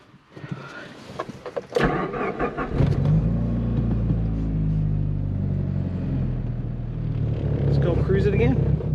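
A car with a loose clutch pin cruises around a parking lot, its engine rumbling steadily and revving up loud and close after a brief quieter start, with a voice talking over it.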